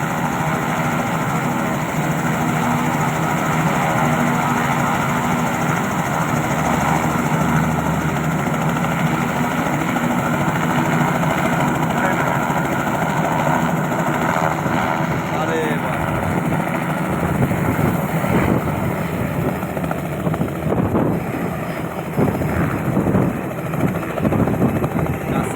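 A helicopter's engine and rotor run steadily and loudly on the ground before a joyride flight at a hotel in Bogura, a continuous droning whine that fills the scene while people talk faintly beneath it.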